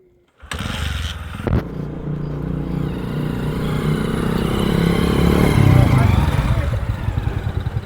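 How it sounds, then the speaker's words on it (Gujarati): A motorcycle engine starts up in cold weather, catching after a brief crank and settling into a steady, close rumbling idle that swells slightly toward the end, with voices faintly mixed in. "ઠંડીનું તો બાઈકે ચાલુ નહીં થાય"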